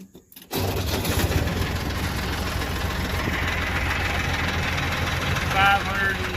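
A 2012 Mahindra 6530 tractor engine cranks and catches, then settles into a steady, close, low diesel idle that runs loud and even to the end, with a brief surge partway through.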